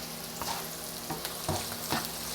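Garlic and ginger sauté in a pan, giving a steady, close sizzle with a few soft scraping stirs spaced through it.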